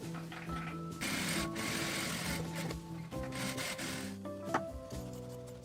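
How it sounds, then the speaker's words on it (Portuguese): A sewing machine runs a safety stitch around fabric with a lining for a maternity bag kit, its motor whirring steadily in close, continuous bursts with brief pauses and speed changes. "Vou passar uma costura de segurança em toda a volta e refilar o excesso."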